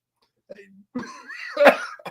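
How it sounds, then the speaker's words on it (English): A single close, loud cough rises out of near silence, preceded by a brief throaty rasp and a quick intake. "cough came to me as if it was on cue"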